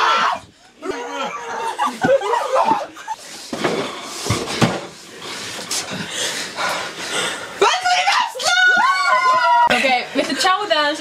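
A group of friends sneak up outside a house to scare someone, and loud startled screaming breaks out, high and wavering near the end, amid close chatter and laughter.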